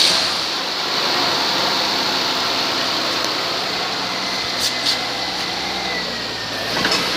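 Engine of a 2006 Ford Freestyle with about 238,700 miles idling steadily, a continuous broadband hum with faint mechanical whine and no talking.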